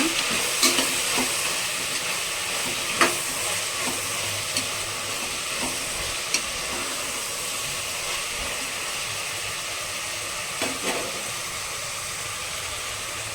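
Mushrooms soaked in turmeric and salt water fry in a pan with a faint steady sizzle, broken by occasional soft scrapes and clicks of stirring, alone without talk.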